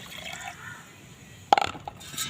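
Water is poured onto onion peels in a container to make liquid fertilizer: a quiet lead-in, then a brief, close splashing pour with a faint clink.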